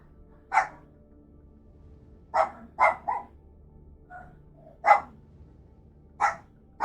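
Puppies in the Blue Prince video game bark in short, sharp yips, a handful of separate barks spaced irregularly with quiet gaps between, clear and close against a faint background hum.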